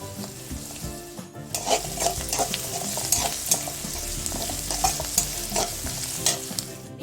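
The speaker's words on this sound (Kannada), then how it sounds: "ಹಸಿ ವಾಸನೆ ಎಲ್ಲ ಹೋಗಿ ಗೋಲ್ಡನ್ ಬ್ರೌನ್ ಬರೋವರೆಗೂ ಫ್ರೈ ಮಾಡ್ಕೊಳ್ಳಿ ಬೆಳ್ಳುಳ್ಳಿ ಹಾಕಿ" Garlic, turmeric and curry leaves fry in hot oil for a chickpea and greens bassaaru, a steady close sizzle with repeated stirring scrapes of the spoon against the pan.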